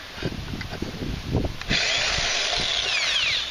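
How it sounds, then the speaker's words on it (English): Power drill boring holes during a Gold Cube trommel install, starting with a few short bursts and handling knocks, then a loud, continuous whirring bite through the material. "Now we go ready to drill these."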